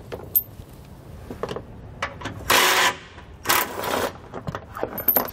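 A 15mm socket on a ratchet removing bolts during a steering stabilizer install on a 2017 Coachmen motorhome, with a few close metallic clicks, two loud bursts of ratcheting and scattered small taps, no talk.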